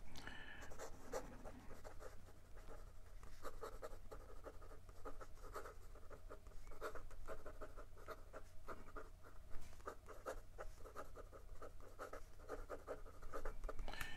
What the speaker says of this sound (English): And some quick writing.